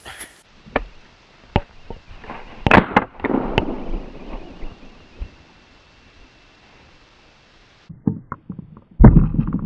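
A single sharp gunshot fired at a groundhog outdoors cracks loudly early on, surrounded by scattered knocks and rustling, with a quieter stretch before more thumps near the end.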